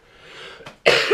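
Coughing from a person who is sick, a faint breathy lead-in and a short hack, then a loud harsh cough burst near the end.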